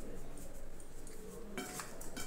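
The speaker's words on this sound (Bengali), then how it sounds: "খুব সুন্দর করে মেশাতে হবে।" Fish pieces are mixed with salt and turmeric in a bowl: faint, soft scraping and light clinks of a utensil against the dish, quiet and close, with no talking.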